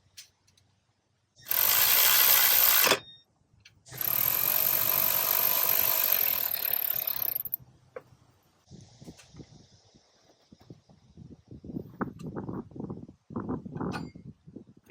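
A ratchet tightening starter bolts on a 2004–2008 Acura TSX sounds in two long, loud bursts of rapid clicking, followed by lighter scattered clicks and knocks from the tool and parts.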